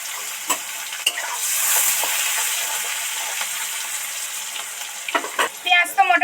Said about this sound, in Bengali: পেঁয়াজ তো মোটামুটি সফট করে ভাজা হয়ে গেছে